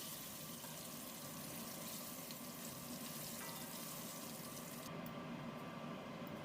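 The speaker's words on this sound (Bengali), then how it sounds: "এইভাবে এগুলো ভেজে নিচ্ছি।" Batches of mung dal muithya dumplings sizzle in oil in a kadai, a constant close frying crackle and hiss with faint stirring and no talking.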